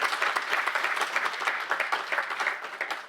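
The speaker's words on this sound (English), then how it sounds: "Definitely he deserves a round of applause" An audience at an SBFCA meeting gives steady, dense applause for a departing first director, with many hands clapping throughout and no voices over it.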